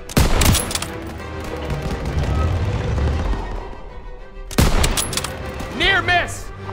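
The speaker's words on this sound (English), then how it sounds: "They're taking fire from behind!" Heavy gunfire from a World War II video game set during the Battle of France, with rapid loud bursts at the start and again near the end, broken by a short lull and mixed with shouted voices.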